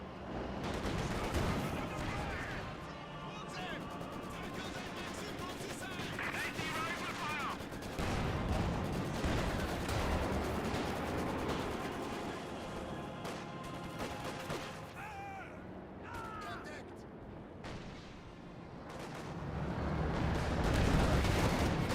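Maxim machine gun fire in Company of Heroes 2, a steady stream of bursts and explosions from a busy battlefield, loud and continuous with a narrating voice talking over it.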